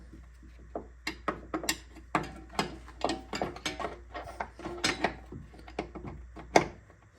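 A 19 mm wrench snugging a coilover bolt on a Porsche 944, a close series of quick metallic ratchet clicks in irregular bursts, alone with no talk.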